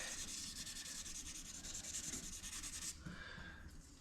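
Fine 2000-grit sandpaper rubbed back and forth in steady rapid strokes during a Mazda Miata NB fuel pump job, close and continuous for about three seconds before easing to a softer, quieter scrub.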